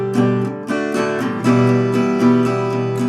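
Acoustic guitar strumming a chord pattern, a few rhythmic strokes over sustained ringing chords, close and clear with no talking.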